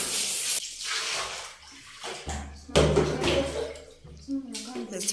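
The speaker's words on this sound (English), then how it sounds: "Let's pour water on it" Water poured onto a bathroom floor during cleaning with vinegar and dishwashing liquid, splashing and rushing in loud bursts across a tiled bathing area that slopes, with brief pauses between pours.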